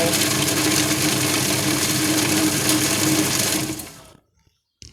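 A kitchen blender grinds ginger in a steady, loud whir with a gritty churn of chopped pieces, running continuously for about four seconds before cutting off into near silence, with a faint clatter at the end.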